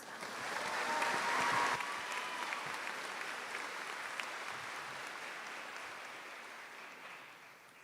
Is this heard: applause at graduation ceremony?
yes